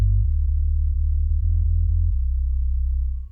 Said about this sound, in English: I add a sausage fattener to boost up to add some saturation and increase the volume to make it sound powerful and more thick together.